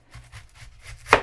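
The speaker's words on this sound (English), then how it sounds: "Now, I'm going to cut the ends off the onion." A knife slices through the ends of an onion on a cutting board, with a few soft cuts followed by one sharper, louder chop against the board near the end.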